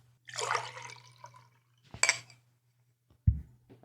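Sherry is poured into a glass close up, with a short splashing trickle, then a clink of glass and a light knock, under a faint steady hum.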